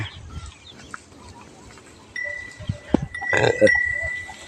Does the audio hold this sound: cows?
yes